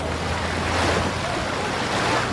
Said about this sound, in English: Lots of splash, lots of waves being created